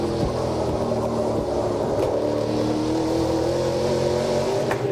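A NASCAR Pinty's Series race car at Delaware screams at high RPM, a loud sustained engine howl close by, steady and continuous with no speech over it.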